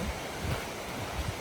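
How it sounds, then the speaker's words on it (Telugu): Waterfall in a Tasmanian forest, water falling in a continuous soft rushing hiss with a low rumble, steady and somewhat distant, with no speech. "ఆ ఫాల్స్ వాటర్ పడతా ఉంటాయి కదా!"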